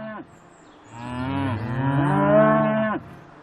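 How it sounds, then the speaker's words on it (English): A single long, deep moo swells and holds for about two seconds, loud and close, in an otherwise quiet setting. "Yes, a herd of cows."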